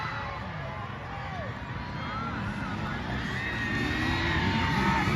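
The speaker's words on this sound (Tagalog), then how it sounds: "Grabe, hiyawan ng mga tao dito mga boss." A crowd at a ladies' final match cheers and shouts in a continuous, building roar, with whoops and voices rising over the din from a distance and the noise swelling toward the end.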